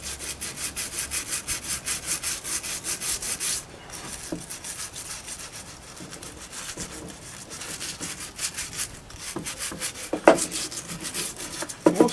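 Hard plastic brush scrubbing a wooden dresser, a steady rhythmic rasping that carries on without pause, with a few sharper scrapes and knocks near the end. No voices are heard.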